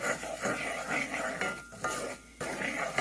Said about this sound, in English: what I did was just add in some flour to my butter